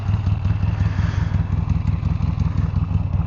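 A Buell S1 or X1 Lightning motorcycle sets off, its engine close and loud with a rapid, lumpy thumping pulse that stays steady throughout, with no voices.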